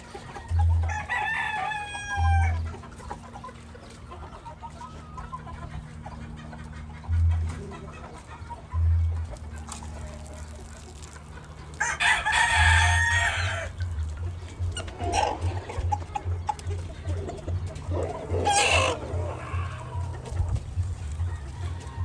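A Cowan bull stag rooster, about a year and a half old, crows several times in clear drawn-out calls over a steady low farmyard hum, with other fowl clucking nearby and no talking.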